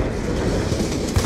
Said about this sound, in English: And the train just had to pass.